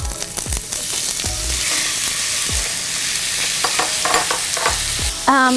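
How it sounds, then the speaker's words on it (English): Beef strips searing in a very hot pan for a stir-fry, a loud, continuous close sizzle with repeated scraping and clattering strokes from a spatula and a few sharp metallic knocks. "See how hot the pan is right now? Okay, in with beef."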